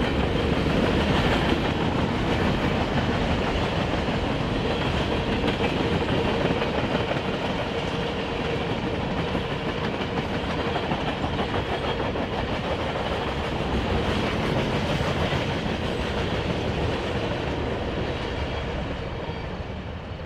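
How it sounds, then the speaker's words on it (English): A westbound BNSF manifest freight train rolls past through cornfields west of Chicago, a loud, continuous rumble with steady clickety-clack of wheels on rail joints, close and sustained throughout. "this westbound manifest is surfing the cornfields 50 miles west of downtown Chicago."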